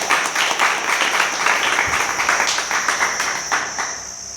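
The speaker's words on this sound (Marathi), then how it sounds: "देवासाठी जरा टाळ्या वाजूया का आपण?" A church congregation claps together in a steady, dense burst of hand claps that fills the room, loud and close, with no voices over it.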